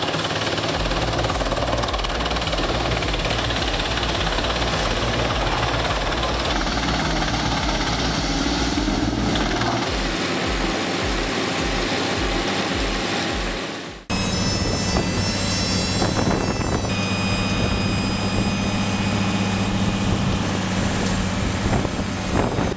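A wood chipper shredder grinds wood with a loud, continuous mechanical roar and rhythmic engine thumping, dipping briefly before resuming with a harsher, higher whine as material feeds through.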